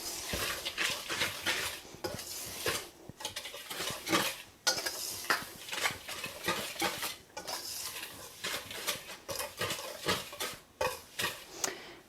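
A utensil stirs cocoa powder and self-rising flour together in a bowl, making rhythmic scraping and tapping strokes with brief pauses, close up and with no talking.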